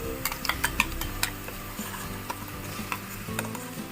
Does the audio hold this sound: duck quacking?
no